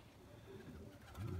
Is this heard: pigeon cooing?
yes